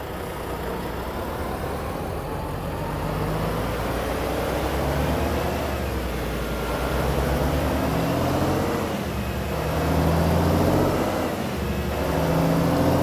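A heavy truck engine from an LT mod in an SCS truck simulator game idles and rumbles steadily, with a deep low drone and mild swells in revs, close and continuous without talk.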